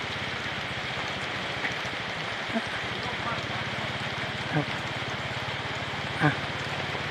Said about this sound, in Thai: ฝนตกนะครับเสาร์นี้คือทีเบิดมือแล้วเบื้องแล้วนะครับ